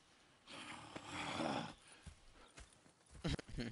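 Clip-clopping horse hooves at a steady pace in the video game Red Dead Redemption 2, mixed with game ambience and brief speech-like sounds, moderately loud.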